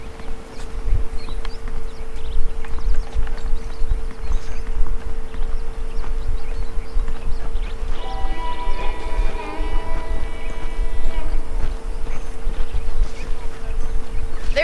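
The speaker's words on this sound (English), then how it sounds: "The horses are saddled up over here." Horses clip-clop in the Red Dead Redemption video game, their hooves beating a steady, fast rhythm at close range over a constant low hum, with a brief whinny-like tonal sound partway through.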